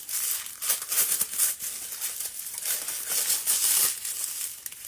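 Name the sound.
unwrapping plastic wrapping from nail polish packaging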